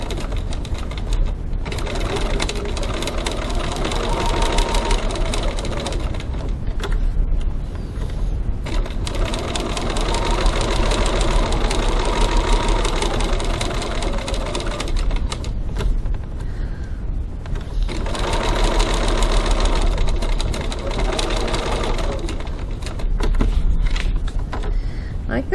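A sewing machine top stitching a wallet pocket flap, in several long bursts of fast, even stitching separated by short pauses, loud and close.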